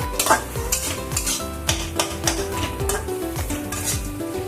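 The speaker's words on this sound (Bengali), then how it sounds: "ভালো করে মিশিয়ে নিয়ে নামিয়ে দেবো" Shrimp and oler data (elephant-foot yam stalk) curry being stirred and mixed in a pan, with a steady run of spoon scrapes and clinks against metal over a soft sizzle, close and fairly loud.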